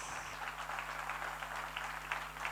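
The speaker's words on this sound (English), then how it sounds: "Big round of applause" Audience applause at an inter-school general knowledge quiz final, steady moderate clapping from a hall crowd for a school team, continuous and even throughout.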